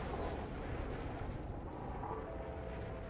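Continuous rumbling barrage of ship weapons hammering a power plant in the space game Elite Dangerous, a dense, steady roar of fire with no clear gaps, fairly loud throughout.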